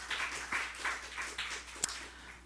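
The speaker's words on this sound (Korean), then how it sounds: "우리 하나님께 박수 올려드려요." Congregation clapping at a Korean church Sunday worship service, a soft, fairly faint wash of applause with gentle swells and one sharper clap near the end.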